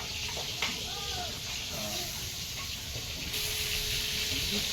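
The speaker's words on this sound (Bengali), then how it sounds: "বেগুনগুলো ভাজতে লাগবে" Eggplant slices frying in hot oil give a steady, close sizzle with soft hissing and a few faint clinks throughout, no voices over it.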